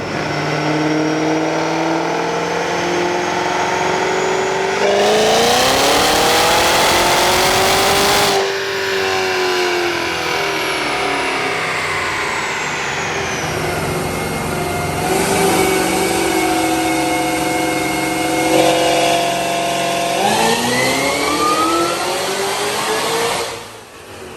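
A supercharged Cadillac CTS-V3 launching and accelerating on a drag strip, loud and close, its engine and blower whine rising through the gears in sweeping climbs with brief drops at each shift, a continuous roar throughout.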